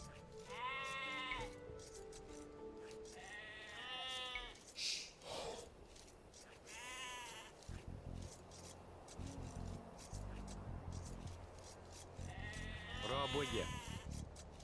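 Sheep in a video game bleat repeatedly, a few separate wavering calls spaced several seconds apart, over faint rubbing noises and a brief spoken word.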